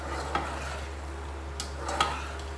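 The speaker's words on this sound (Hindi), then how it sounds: "चम्मच चलाते रहना है" A spoon stirring liver stew (kaleji) in a pot, making a few faint, brief scrapes and taps against the metal over a low steady hum, with no speech.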